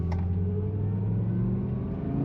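A 2006 BMW E60 M5 with its resonators still in place idles with a low, steady engine hum and faint intake whir, quiet and constant with no revving.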